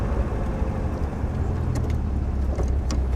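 A 1950 Sunbeam Talbot car drives along with a steady, close engine drone and road rumble, a continuous low hum that holds even throughout with no talking.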